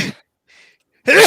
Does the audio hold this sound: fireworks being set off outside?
no